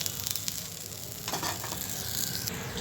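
A Nellore-style onion dosa with oil added sizzles steadily on a hot pan, a soft continuous frying hiss with light stirring scrapes, heard alone and fairly quiet.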